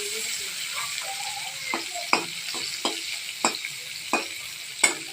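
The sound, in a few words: food frying in a wok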